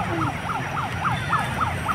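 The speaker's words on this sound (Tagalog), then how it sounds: "at nagkaroon na po ng sirena dito para" A wailing siren at Manila Bay's dolomite beach rises and falls in quick, regular whoops over a busy outdoor background of crowd and traffic noise.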